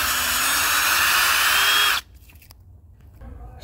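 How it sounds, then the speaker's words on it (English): A power drill whines steadily for about two seconds, boring holes into a broken Ford coolant degas bottle cap, then stops abruptly, leaving faint handling noises. "Drill two holes right about here where the pliers are going to go down."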